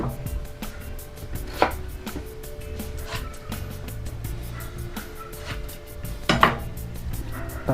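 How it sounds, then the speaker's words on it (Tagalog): Knife strokes against a cutting board while fish is sliced for Filipino ginataang paksiw, a steady run of soft taps with two louder clacks, close by with faint kitchen background and no talk. "Tapos na tayo mag-iwa."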